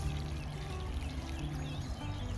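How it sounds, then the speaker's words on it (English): Water pouring steadily onto a giant pumpkin plant in a garden bed, a continuous close splashing and trickling with a low rumble underneath, unbroken for the whole moment. "But for now, I can just water it like this."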